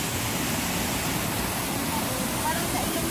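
Maguibuay Falls pours in a constant, loud, broadband roar of rushing water that holds steady without a break, close and enveloping.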